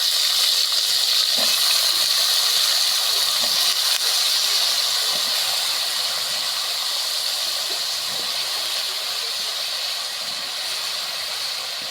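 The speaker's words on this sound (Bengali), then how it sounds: "তেলানিটা ভাজা হয়ে গেছে, এখন লতিগুলো দিয়ে দিব।" Taro stolons tossed into a frying pan of hot oil after the oil-fried ingredients are done, giving a loud, steady hiss and crackle that eases slowly over the stretch, with no voices.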